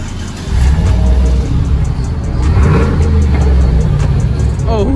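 A truck fitted with a new Carven muffler revs loudly close by, a deep rumbling exhaust roar rising and surging over several seconds, steady and heavy throughout with faint voices underneath.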